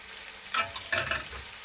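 Fried chicken wings and sweet potato are stirred in a pan, with soft sizzling under a few brief scraping clatters of the spoon against the pan.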